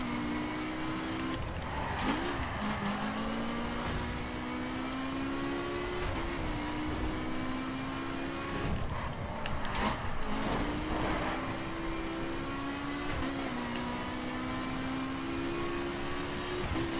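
A car drifting in The Crew 2 racing game, with a steady engine drone that shifts pitch through gear changes, and tire scrub and skidding noise running underneath for the whole stretch.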